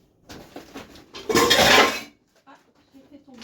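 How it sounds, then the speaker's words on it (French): A saucepan clatters loudly onto a kitchen surface with a short metallic crash and ringing, after some lighter handling of pans and utensils, followed by quiet shuffling. "j'ai fait tomber la casserole"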